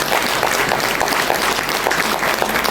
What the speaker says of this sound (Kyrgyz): Мугалимдерге бир кол чаап коелучу